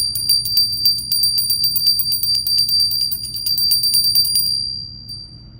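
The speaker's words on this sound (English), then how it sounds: "I'm going to go ahead and ring my bell." A handheld ritual bell is struck in a rapid, even series of bright metallic rings for about four seconds, then left to fade out alone over a low background hum.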